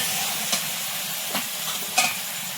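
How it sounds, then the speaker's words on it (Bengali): Meat being braised and stirred in a pan in a home kitchen, with a continuous hissing sizzle and a few brief scrapes of stirring, close and without speech. "মাংস কষানো হচ্ছে, একদিকে রুটি হচ্ছে।"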